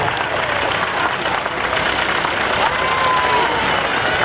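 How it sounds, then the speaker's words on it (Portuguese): A crowd at a gaucho parade for the Farroupilha cultural day applauds steadily in a loud, continuous wash of clapping, with an engine idling beneath it and a faint whistle-like tone partway through. "Vamos aplaudir as mulheres do CTG Presília do Pago."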